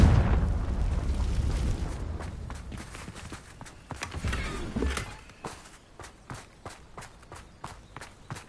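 A Confringo blasting spell explodes in Hogwarts Legacy, a loud booming blast at the start that rumbles and decays, followed by a run of sharp, evenly spaced footstep-like thuds.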